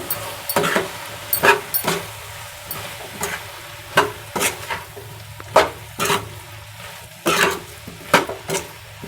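A spoon stirs chili and coriander powder through a mushroom masala curry with fried mushrooms, tomato and onion, making irregular close scraping strokes against the pan over a soft background hiss.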